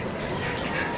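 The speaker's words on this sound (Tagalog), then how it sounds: "Buti nga malakas ang tubig ngayon eh." Water gushes strongly from a tap, a steady, dense rushing and splashing noise that holds at an even level throughout the short moment, close and continuous.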